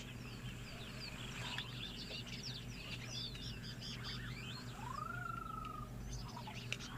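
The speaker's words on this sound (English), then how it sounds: "those mourning doves really are so special to listen to" Mourning doves and other wild birds call faintly at Etosha in Namibia, scattered chirps and a longer whistled note rising over a steady low outdoor hum.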